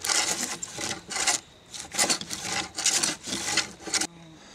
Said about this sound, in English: I got a little bit of it planed. It's coming along pretty nicely.